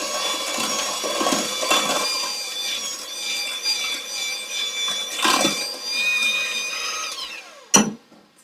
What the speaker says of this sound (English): So I'm going to go back to my mixer for this to get that all mixed in there.